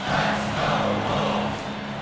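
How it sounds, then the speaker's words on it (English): Arena crowd in the NBA 2K26 video game during a fourth-quarter NBA Cup group game, Kings against the Timberwolves: a steady, loud wash of roaring spectators with no voices standing out. "And the crowd is locked in."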